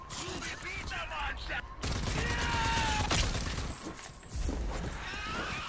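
Gunfire in the video game Rage 2, rapid loud shots in bursts over a busy game soundscape, with a sharp cluster of blasts near the middle.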